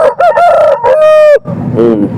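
A rooster at a hen and sheep market in Baireddipalli crows loudly and close, a long strained call that breaks off, followed by softer clucking.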